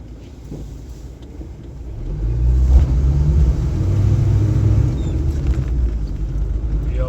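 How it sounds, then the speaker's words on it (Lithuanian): A car engine swells from idle into a sustained loud rev as the wheels spin. The deep rumble is close and holds for several seconds before easing slightly. "Pabandyk čia prasukti ratus, pažiūrėsim, ar 4 ir 2 sėdi."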